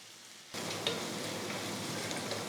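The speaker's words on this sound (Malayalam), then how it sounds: "2 ടേബിൾ സ്പൂൺ ഇഞ്ചി വെളുത്തുള്ളി ചതച്ചത്, ഇതും കൂടെ ചേർത്ത് നല്ലതായിട്ടൊന്ന് വഴറ്റി കൊടുക്കാം." Chopped onion sautéing in a pan with crushed ginger and garlic for chicken salna erupts into a steady, close sizzle of frying after a quiet half-second, continuing evenly to the end.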